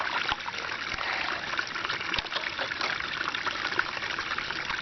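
Water runs and trickles steadily close by in an off-grid RV, a continuous splashing flow with no talk.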